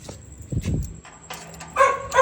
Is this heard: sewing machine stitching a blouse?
no